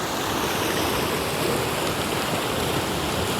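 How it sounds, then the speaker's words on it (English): Water gushing hard at Hurleston Reservoir, a steady, loud, continuous rushing roar close by with no talking over it. "And the water is just gushing like mad."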